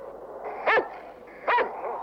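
A dog shut inside a cage gives two sharp, close barks about a second apart, with a quiet, low background between them.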